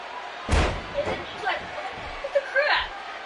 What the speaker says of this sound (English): You hear how his leg connected?